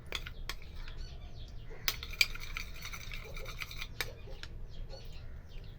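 A spoon scrapes and stirs a thick face pack of grated potato, besan and rose water in a small bowl, with quiet continuous rubbing and a few light taps against the rim.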